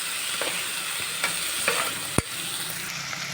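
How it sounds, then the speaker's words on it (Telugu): Urad dal fries in shallow oil with a continuous sizzle while a spoon stirs through it. Several scraping strokes come through, then one sharp clack of the utensil against the pan, all close and with no talk. "ఇప్పుడు ఆయిల్లో పప్పుని వేసి ఇలా కలిపేసుకోవాలి."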